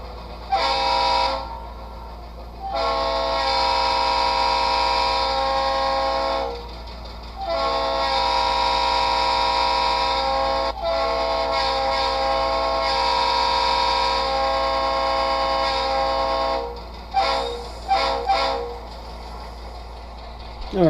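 Train sounds from an HO model locomotive sound decoder played through an iPhone speaker, with long horn blasts repeating over a steady chugging engine hum, separated by brief pauses and a few short toots near the end.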